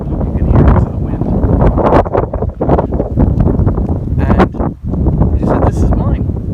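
Strong wind gusts at Tonto Natural Bridge batter the microphone close up, a loud, rough, continuous rumble with brief dips between gusts.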